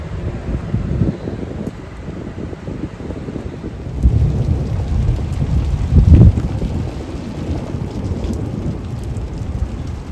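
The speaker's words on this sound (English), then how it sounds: "We got thunder, we got lightning" A thunderstorm with steady rain and rolling thunder outdoors, the downpour continuous throughout while a louder thunder rumble swells midway and fades again, with no talk.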